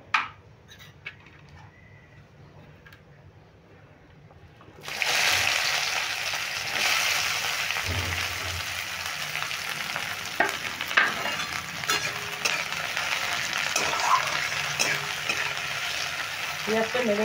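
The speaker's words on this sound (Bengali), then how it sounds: "পেঁয়াজটা নেড়ে একটু ভেজে নিচ্ছি।" Chopped onion dropped into hot oil in a pan bursts into a loud, steady sizzle after a few quiet seconds of small clinks, then continues with repeated stirring scrapes and knocks over the hiss.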